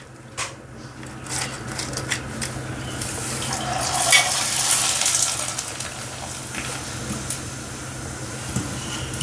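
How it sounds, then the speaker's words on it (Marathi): Kharvadi, dried puffing snacks, frying in hot oil, making a steady close sizzle with faint utensil clinks and stirring, swelling briefly louder midway, with no talk. "पहिल्यांदा आपण खारवड्या तळूया."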